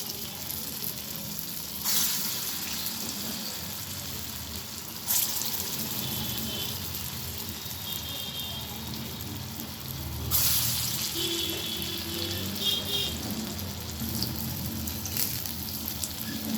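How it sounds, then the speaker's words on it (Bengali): Pumpkin fritters fry in hot oil in a wok, a soft steady sizzle close by, with a few brief bursts of running water and faint kitchen clinks over about sixteen seconds. "আমি এবার বড়াগুলো ভেজে নেব।"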